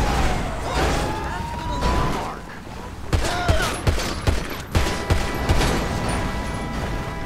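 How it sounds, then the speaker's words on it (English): Gunshots in a GTA police roleplay game on a highway: a scattered fusillade of sharp cracks, several distinct shots in the second half, over continuous background noise and some mechanical clatter. "There's actually more shots fired."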